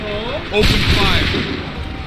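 A musket volley fires in Assassin's Creed 3, a loud, sudden crash of gunfire that erupts after a brief voice and rolls out into a lingering, noisy decay.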